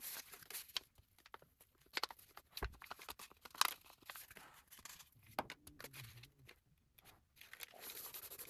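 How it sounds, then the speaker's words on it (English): Paper being handled for a bedroom mood board gives close, continuous rustling and crinkling, broken by several sharper tearing bursts, with no talking. "And now we'll just listen to the little sounds of paper and Willow."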